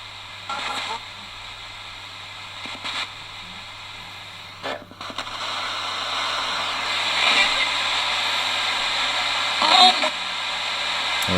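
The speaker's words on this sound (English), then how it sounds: "it's now sweeping through all the channels and also giving us the all-important static white noise that we need in these investigations" A Roberts R9921 radio sweeps through its channels, giving a steady hiss of static white noise broken by brief clicks and snatches of tuning, with a constant low hum underneath.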